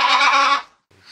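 A sheep gives a single short, bright bleat lasting just over half a second, followed by a faint trailing noise.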